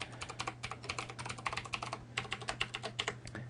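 Rapid, close clicking of a computer keyboard as a password is entered, a dense run of keystrokes over a low steady hum, with no voices.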